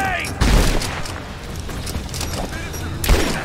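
A grenade blast and gunfire in a video game, a heavy boom near the start and another near the end with rattling fire in between, loud and close, with a voice briefly audible underneath.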